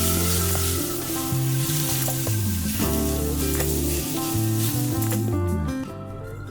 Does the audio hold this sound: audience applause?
no